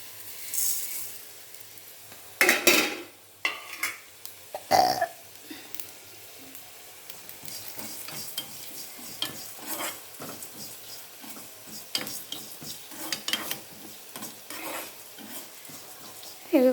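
Spices fry and crackle in a pan for ivy gourd curry, a faint sizzle broken by scattered, sharp clinks and scrapes of a utensil against the pan, close by.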